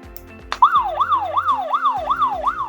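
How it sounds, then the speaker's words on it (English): After a sharp click, an OSI Wi-Fi mini alarm siren, triggered by its SOS button, starts up, wailing in rapid repeated upward sweeps, loud and close. "Now let's quickly test the siren by pressing the SOS button."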